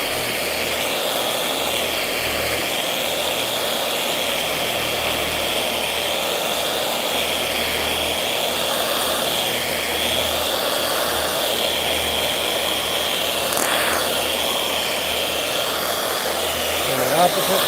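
A polisher buffs the hood of a square body truck, giving a steady whirring machine drone that holds even and close throughout, with a faint swell near the end.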